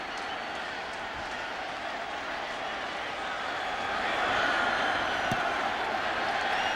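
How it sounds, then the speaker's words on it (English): Football stadium crowd at a Broncos at Redskins game, a broad steady roar of cheering that swells slightly toward the end, heard at a distance with no clear single voices. "He gets a cheer from the crowd."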